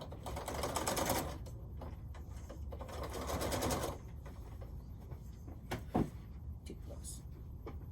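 A sewing machine stitches through three quilt layers of fabric in two steady, buzzing runs, with a pause between them and a soft thump near the end.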